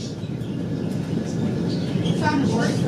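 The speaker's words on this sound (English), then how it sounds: "my grandpa always said when it sounded like a train, that's tornado." A tornado storm system passes over a house in Lena, Illinois, giving a continuous low, roaring rumble like a distant freight train that builds slightly in loudness, with faint higher sounds flickering above.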